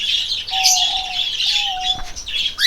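A breeding pair of birds chirps and tweets close by, bright rapid calls repeating across a short stretch with a faint flutter of wings.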